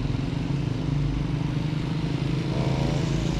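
A motorcycle engine runs steadily at low idle-like revs while being ridden slowly in Mexico, a close, even throb that continues alone without pauses.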